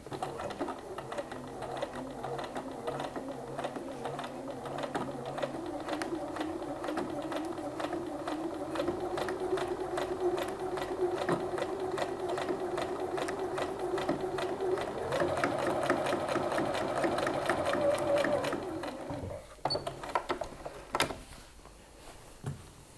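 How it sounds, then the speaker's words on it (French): A sewing machine running a parallel topstitch seam on jeans, with a steady close whirring stitch rhythm for about eighteen seconds that then stops, followed by a few clicks and knocks. "Et je refais une piqûre parallèle."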